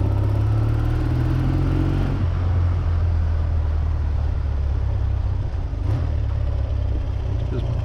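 A 1978 Triumph Bonneville T140V motorcycle pulling in third gear under open throttle, a steady, loud engine hum that holds its pitch with a slight rise.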